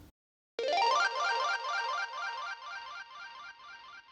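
Bright Nexus pluck synth running through a Logic arpeggiator with delay, reverb, EQ, compression, tremolo and bitcrusher, playing a fast rippling arpeggio pattern that starts abruptly after a short silence and carries on loud and steady with echoing tails.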